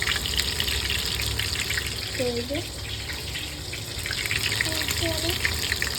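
Meat fries in a pan over a flame with a steady, close hiss and sizzle throughout while someone speaks over it.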